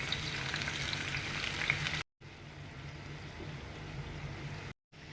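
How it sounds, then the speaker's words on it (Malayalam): Finely sliced onions fry in oil for Kerala-style beef chukka with a steady, even crackling sizzle like light rain. The sound cuts out briefly twice and then resumes, with no voices. "സവാള ജസ്റ്റ് ഒന്ന് ഓയിലിൽ ഫ്രൈ ആക്കി എടുക്കാം"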